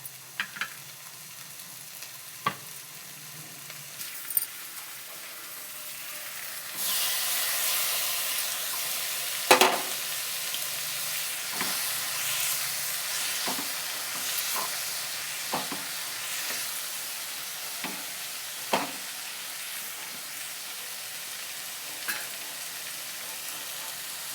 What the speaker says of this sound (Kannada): ಟೊಮೆಟೊ ಕೂಡ ಎಣ್ಣೆಯಲ್ಲಿ ಫ್ರೈ ಮಾಡ್ತೀನಿ.